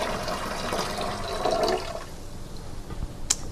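Homemade pomegranate wine pouring from a spigot into a large bucket, a close steady gush of liquid that eases off after a couple of seconds, ending with a small clink.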